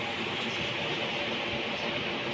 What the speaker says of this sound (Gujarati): કુલરનો અવાજ ચાલુ છે ને એટલે અવાજ થોડો ઘણો ધીમો હે